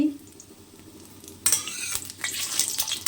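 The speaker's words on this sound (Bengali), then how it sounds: "ডিমটাকে লাল করে ভেজে নেব এভাবে করে। দেখো ডিমটা ভেজে নিচ্ছি।" A halved boiled egg frying in hot oil in a pan, faint at first, then a loud, bright sizzle bursts in about halfway through and keeps crackling and spattering to the end.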